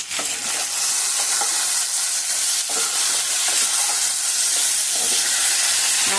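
Vegetables for shukto fry in a pan with a loud, continuous sizzle and hiss, with occasional stirring clicks throughout.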